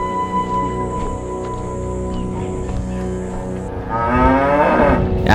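Cattle in a field of cows along a race route in Batangas, Philippines, moo in a loud, drawn-out call near the end, heard over a steady background hum.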